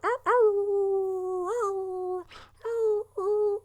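People imitate a wolf howl together: one long sustained howl rising and bending in pitch, then a breath and two shorter howls, loud and close with no other sound.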